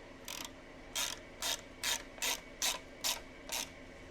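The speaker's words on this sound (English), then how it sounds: "we're just going to tighten up the front and rear tank bolts" Long Allen wrench tightening the front and rear fuel tank bolts on a Harley Sportster, a quiet, close ratcheting click repeated about eight times at an even rhythm against a faint background hum.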